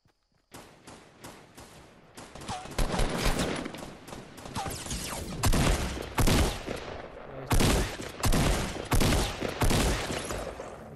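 Grenades thrown and bursting in the video game Fortnite, a dense run of sharp blasts and crackling impacts, some in quick clusters, over about ten seconds with no talk.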